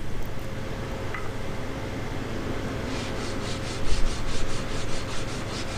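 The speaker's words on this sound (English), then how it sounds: "Here we use 150 grit sanding block." A 150 grit sanding block rubs along the edge of a wooden guitar neck, a steady close scraping hiss that turns into a series of rhythmic back-and-forth swipes in the second half.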